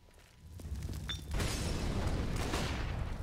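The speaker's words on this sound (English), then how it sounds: "Flashbang towards top mid very early indeed" A flashbang grenade goes off early toward top mid on the Mirage map in a Counter-Strike match, starting with a faint clink and rising into a loud, sustained burst of hiss and rumble.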